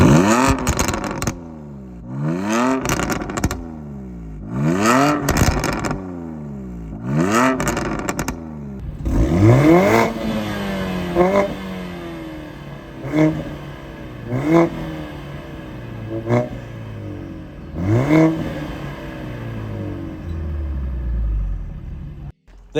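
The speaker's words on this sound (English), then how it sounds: "Now we're going to do a sound check of both cars" A Mercedes A45s AMG and a BMW M2 Competition rev hard in a series of quick bursts, then several longer climbing revs follow, loud and close with crackling exhaust.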